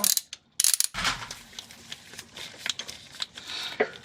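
Long-handle ratchet on a long extension with a 17 mm socket works a bolt loose on a 1999 Acura RL differential, giving a few bursts of close clicking and rattling with short pauses between.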